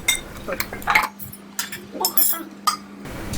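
Garlic, shallot and ginger being mixed into beef in a pan, with clinks and scrapes of a utensil against the pan under a faint sizzle, while a person talks over it.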